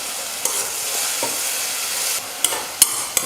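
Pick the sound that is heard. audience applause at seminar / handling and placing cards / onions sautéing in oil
onions sautéing in oil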